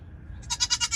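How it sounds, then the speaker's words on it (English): A pet goat bleats in several quick, wavering pulses close by, following a moment of quiet background hum. "And this one is my goat here."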